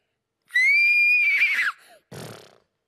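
A child imitates a horse neigh with a long, high quavering whinny that drops off, followed by a breathy blowing snort.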